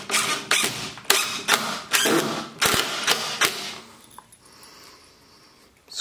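Drywall screws being driven to assemble a wooden window frame for a rustic chicken coop, heard as a series of sharp bursts of screwing and knocking followed by quieter handling.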